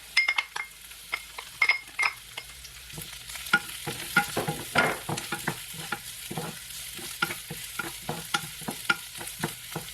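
Garlic and ginger frying in oil for Bicol Express, a Filipino dish, with steady sizzling broken by repeated close scrapes and clinks of a utensil stirring the pan.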